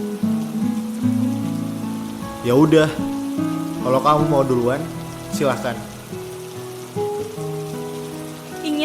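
Steady rain falls on surfaces throughout, a constant hiss beneath a voice speaking and soft tonal music.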